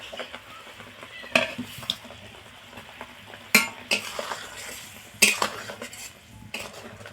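Fried eggs and potatoes going into a boiling gravy, with a spoon clanking against the metal pot in several loud bursts over a soft, steady sizzle.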